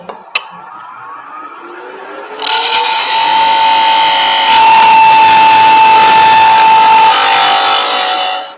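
Woodturning lathe cutting a birdhouse down to a thin wall, a low motor whine followed by a loud, steady tool-on-wood cutting hiss that starts abruptly and runs for several seconds before stopping.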